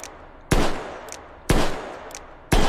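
Three single-action revolver shots in Hot Dogs, Horseshoes & Hand Grenades, each a loud, sharp crack followed by a short decaying tail, spaced about a second apart, with faint clicks of cocking between them and no talking.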